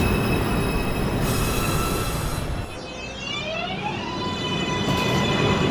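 An R142A New York subway 1 train, Manhattan-bound, runs with a loud continuous roar of wheels on track, metallic squeals and rising whines from the motors layered over the rumble, and no voices.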